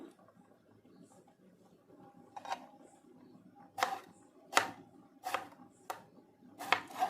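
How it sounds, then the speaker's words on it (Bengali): A knife cuts raw green tomatoes into thin slices on a board, giving a series of crisp, separate chops that come closer together toward the end and sound close and clear over a quiet room. "তো আমি এরকম পাতলা পাতলা করে কেটে নেব।"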